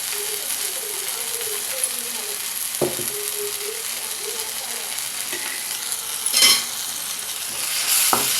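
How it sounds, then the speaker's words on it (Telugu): Soft tomato masala with chili powder being stirred in a pan for egg curry, a steady low sizzle with a few sharp scrapes and taps of a spoon against the pan, close and moderately quiet. "బాగా కలుపుకుందాం."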